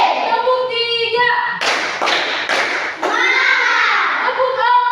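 A classroom of children claps in unison in a counted routine, several sharp group claps in quick succession between bursts of children chanting together.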